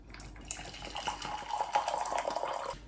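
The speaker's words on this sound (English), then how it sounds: "I'm gonna pour hot water into this first." Hot water pours steadily into a glass jar in a home kitchen, a continuous splashing, filling rush heard up close with no talking.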